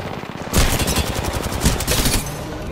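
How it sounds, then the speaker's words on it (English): Rapid bursts of automatic gunfire from the Apex Legends battle royale game rattle loudly in close, sustained volleys after a brief quieter lead-in. "I'm getting shot"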